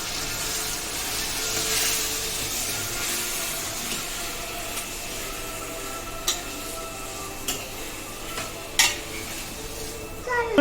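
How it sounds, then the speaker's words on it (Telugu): Tomatoes go into a pan for egg curry and get stirred, producing a soft continuous sizzle with occasional sharp utensil knocks and scrapes against the pan, close and moderately quiet with no voices. "ఇందులోకి మనం టమాటాస్ యాడ్ చేసుకుందామండి. ఒకసారి మొత్తం కలిపేసుకుందాం."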